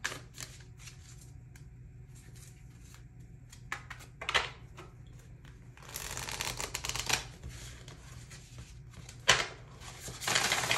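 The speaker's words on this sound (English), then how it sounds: "feel free to stay as I shuffle the cards and lay them out" Tarot cards riffle and slap together in repeated quick bursts, close and crisp, with soft handling noises between shuffles.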